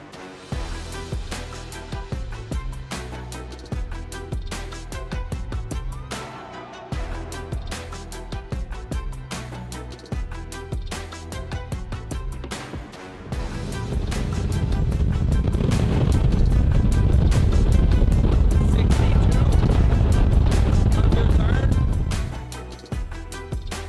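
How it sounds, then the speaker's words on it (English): A Vexus AVX 1985 bass boat engine roars up into a loud, sustained rumble as it accelerates hard out of the hole on the water, rising over music and steady background noise, then cuts back. "I think that's the fastest hole shot on a bass boat I've seen"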